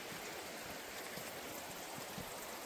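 Water trickles down a moss-covered rock face near waterfalls in Oregon, a soft, steady splashing that stays faint and unbroken, with nobody speaking.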